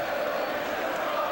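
Football crowd at an English top-flight match between Aston Villa and QPR in 1992, a dense steady roar of many voices that sounds like distant massed singing filling the stadium without a break.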